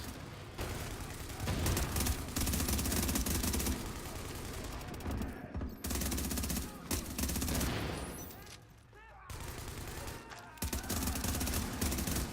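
Continuous rapid gunfire from a weapon in a shooting video game, loud bursts with brief breaks, mixed with game sounds and some talking.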